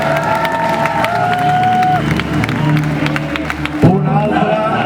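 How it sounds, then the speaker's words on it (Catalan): A large outdoor crowd at the Nit del Foc fire festival in Barceloneta cheers, shouts and applauds steadily for the Diables de Sant Adrià del Besòs, a loud continuous roar with whistles and scattered voices throughout. "Em demanaré, sisplau, un fort aplaudiment pels Diables de Sant Adrià del Besòs."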